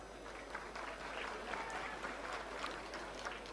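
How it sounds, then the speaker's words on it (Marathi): A seated crowd claps for itself while waiting at the MHADA Konkan Board housing lottery draw. Many hands make a steady, even patter that sounds somewhat distant and soft, with no voice standing out. "एकदा जोरदार स्वतःसाठी टाळ्या वाजवूया"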